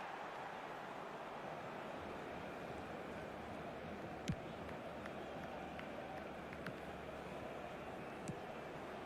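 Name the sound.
stadium crowd in football video game eFootball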